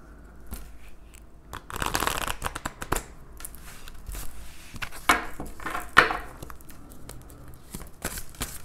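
Tarot cards are riffled and handled in a series of dry, papery flutters and taps with brief louder bursts, close up and fairly quiet, with no talking.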